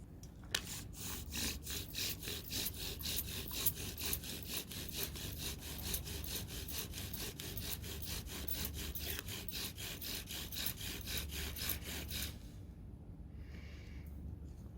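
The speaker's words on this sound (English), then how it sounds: "Rubbing sticks together to make a fire?" Wooden sticks rubbed with a bow drill to start a fire make a fast, even back-and-forth rasping, like sawing, that runs steadily up close before stopping abruptly, leaving near silence.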